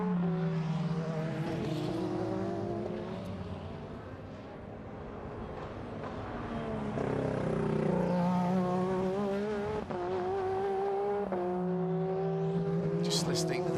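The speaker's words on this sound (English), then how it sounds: "Just listening to the sound of the engines" Sports car engines at the Twelve Hours of Sebring race whine and drone at varying pitch, rising and falling as cars pass at a distance, with some voices in the background.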